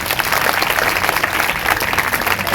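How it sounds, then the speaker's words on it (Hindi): Loud, steady clapping from a church congregation during a Sunday sermon, a dense wash of many hands sustained without pause. "जोर से तालियां बजाएंगे।"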